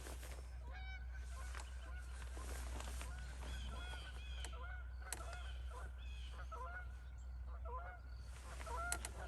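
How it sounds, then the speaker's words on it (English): Several Canada geese honk overhead in a quiet outdoor setting, their calls coming in scattered bursts that sound moderately distant against a steady low hum. "A couple of geese are lost up there."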